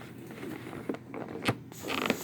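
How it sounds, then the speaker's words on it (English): Small scissors cutting into the plastic packaging of a special edition collectible figure, heard as a few crisp creaks and snips amid light rustling, close and moderately quiet. "So, we got our little scissors"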